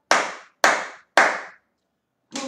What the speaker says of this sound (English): Clap your hands together.